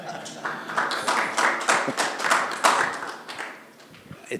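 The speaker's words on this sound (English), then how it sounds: "just a round of applause for Miles" A small audience at a San Francisco Ruby conference open mic claps for a speaker, scattered distinct hand claps at close to moderate distance for a few seconds, tapering off toward the end.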